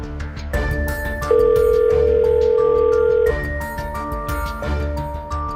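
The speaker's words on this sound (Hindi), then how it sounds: "फोन लगा कर देखता हूँ।" Telephone ring-back tone while calling an officer, sustained electronic tones sounding steadily over low background music, loud and close.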